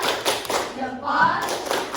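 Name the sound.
class doing a thumb clap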